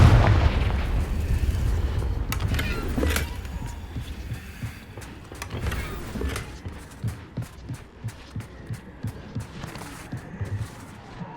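A Confringo blasting spell in Hogwarts Legacy sets off a heavy, booming explosion with a low rumble, followed by a rapid train of smaller thudding impacts that grows quieter as the scene settles.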